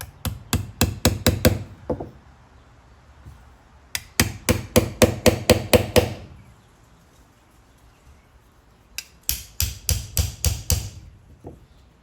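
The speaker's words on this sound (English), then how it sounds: "hammer the pin in slightly so it just gets past, the second little tab here" Sharp hammer taps drive a pin into a Toyota Celica door handle, striking in three quick bursts of about eight to ten close, ringing metallic knocks, separated by short pauses.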